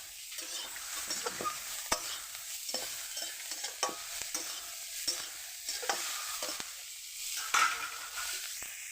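Cauliflower pieces fry in a wok with a steady sizzle while a spatula scrapes and clacks against the pan in irregular stirring strokes, close up with no talking.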